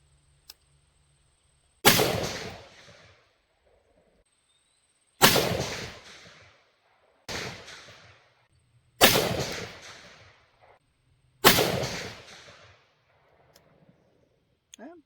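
An Armalite AR10 rifle firing AAC 175-grain open tip match rounds, five loud sharp reports spaced a couple of seconds apart, each ringing out into a decaying echo, with quiet pauses between shots.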